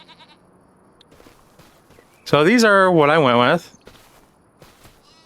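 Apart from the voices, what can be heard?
sheep bleating in Farming Simulator 25 video game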